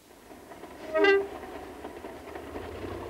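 A West Highland sleeper train sounds a single short horn toot at middle distance over a low rumble of rail noise, then the rolling background continues steadily.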